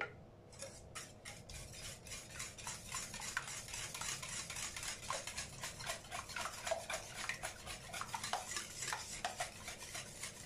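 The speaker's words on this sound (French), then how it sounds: "Et je mélange." A spoon or whisk stirs apple flan tart batter in a bowl, giving a quick, regular run of soft scraping and clinking strokes, close and fairly quiet with no talking.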